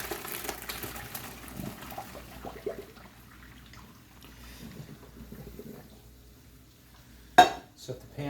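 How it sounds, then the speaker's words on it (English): Hot pasta water drains from a pot while making carbonara, a soft pouring wash with faint clinks of cookware, quiet and close, ending in a sharp metallic clank of the pan. "I'm going to drain that pasta."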